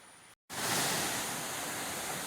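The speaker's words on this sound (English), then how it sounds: "we're gonna go to the waterfall, which you can hear in the distance." The Pampanal waterfall in a Kerala forest gives a steady, broad roar of rushing water, fairly loud and unbroken after a brief cut, with no voices over it.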